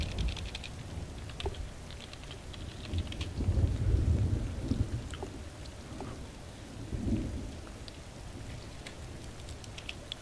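Thunderstorm in Trouble in Terrorist Town, steady rain hiss with a deep rolling thunder rumble swelling and fading, loud and close, no talk.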